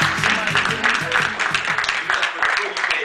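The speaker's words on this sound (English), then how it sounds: "Clap it up, y'all. Clap it up." An audience claps steadily through a lively event, dense and continuous applause, with music and raised voices mixed in.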